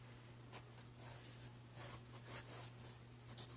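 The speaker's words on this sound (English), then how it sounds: "Just doing a real rough sketch here." Pencil sketches roughly on sketchbook paper while drawing a teapot still life, making quick, faint scratchy strokes in short irregular bursts against a low steady hum, with no talking.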